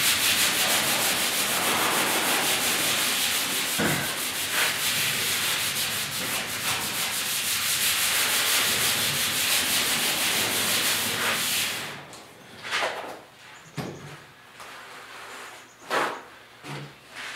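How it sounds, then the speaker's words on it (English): Steady, close abrasive scrubbing of a 1956 Mercury cab with a Scotch-Brite pad rasps continuously for about twelve seconds, then gives way to a few short scraping strokes and pauses. "your Scotch-Brite is doing your sanding for you."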